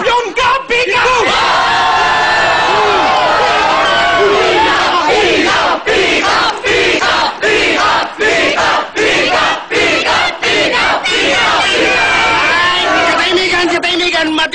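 A crowd shouts and cheers loudly and continuously at a contest, with yells, whoops and babble overlapping in dense, close waves.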